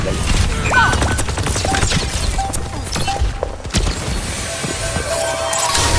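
Barrage ultimate attack in the Overwatch 2 video game, a dense, loud volley of rapid explosive rocket blasts and crashes mixed with game effects.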